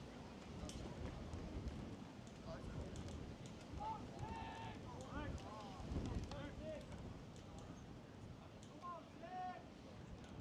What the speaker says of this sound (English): the winds are starting to kick even more. Now it's a consistent heavy gust.